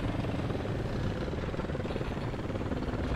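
A Mi-28 attack helicopter in War Thunder, its rotor and turbine roar loud, dense and continuous throughout.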